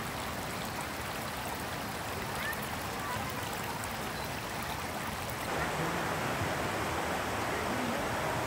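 Water flows continuously in a stream at a family outdoor park in Rizal, Palawan, a steady near rushing wash with no talk heard over it.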